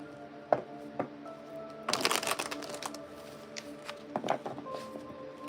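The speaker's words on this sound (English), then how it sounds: "I'm going to pull one last card." Tarot cards handled while one is pulled: soft papery shuffles, slides and taps, with a busier stretch of rustling in the middle and a few isolated clicks, fairly quiet and close.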